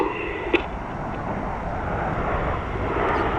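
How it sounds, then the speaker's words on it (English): Spitfire flying past at an airshow, a steady distant propeller-engine drone with wind rumble, gradually swelling a little louder. "And in from the right to commemorate that event, this is Spitfire."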